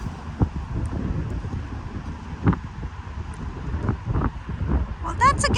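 Strong wind buffets the microphone on a golf course, a low, gusty roar with bumps throughout, and a chirp near the end.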